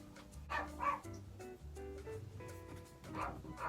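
A dog gives a few short, muffled barks and yips indoors, close but soft, over a low steady background hum.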